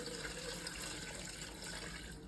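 Tap water runs steadily into a container for making homemade coconut milk from coconut, a continuous close splashing flow with no talk.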